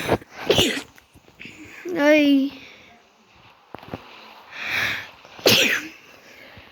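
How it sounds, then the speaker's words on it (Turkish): Several sneezes burst out at intervals between a child's short vocal sounds, sharp and close during a casual Roblox gaming session, with brief noises and a few words in between. "Hapşırık tuttu."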